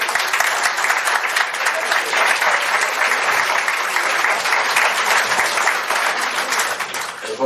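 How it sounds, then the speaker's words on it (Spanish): An indoor audience at a public interview event gives sustained, dense applause welcoming a speaker, loud and steady throughout before tapering slightly at the end. "Vamos a recibir al contador Ricardo Pascale con un aplauso"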